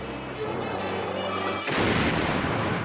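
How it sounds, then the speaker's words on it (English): Naval broadside gunfire from warships at sea, shelling coastal batteries during the 1943 Allied invasion of Sicily; a steady low rumble breaks into a loud booming burst partway through and stays dense and heavy. "Out at sea, broadside after broadside was fired at the coastal batteries"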